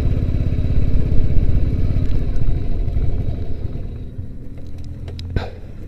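A motorcycle engine laboring uphill on the high Chaala Pass road near Manali, a loud close throbbing drone with a rapid pulsing chug that eases slightly toward the end, punctuated by a sharp clack.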